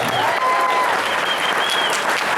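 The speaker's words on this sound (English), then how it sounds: "Give him a big round of applause." Applause from a California Black Caucus meeting audience for Reginald Jones-Sawyer, steady and full throughout with no talking over it.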